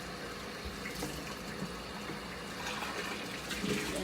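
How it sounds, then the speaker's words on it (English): Water runs from a tap as a can is rinsed out in a home kitchen, a soft steady gush with faint splashing, fairly quiet and close, with no talking. "Rinse out the can."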